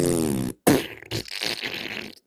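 A voice imitates a fart with a long buzzing, sputtering raspberry, broken into bursts with brief gaps, loud and close to the microphone.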